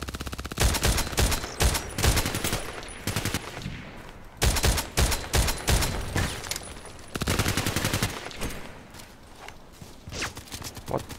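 Rapid bursts of SVD-S rifle fire in a video game crack out close and loud, clustered into several volleys with short pauses between them.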